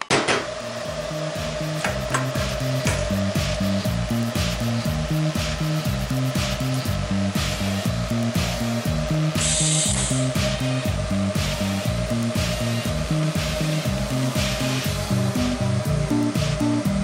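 A PowerTig welder runs a steady, continuous buzzing hum while welding an exhaust H-pipe with a blow-off valve for an EG33 engine swap, close and loud throughout with faint crackles, no talking.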